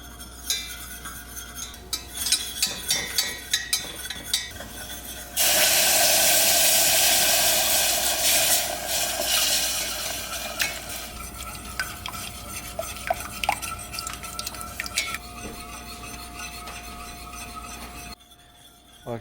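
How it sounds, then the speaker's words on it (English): Flour is whisked steadily into two tablespoons of melted butter for gravy in a pan. Metal clinks rhythmically at first, then a loud sizzling scrape runs for several seconds and fades into quieter stirring taps. "I'm gonna whisk in the flour,"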